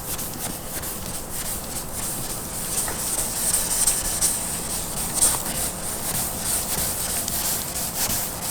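A Corvette C6 aftermarket part being sanded with thousand-grit sandpaper, a steady continuous rubbing hiss, close and fairly loud, with no clear breaks between strokes.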